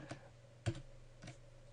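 Computer keyboard keys pressed for the Ctrl+A select-all shortcut: three quiet, separate clicks spread over under two seconds, with no talking.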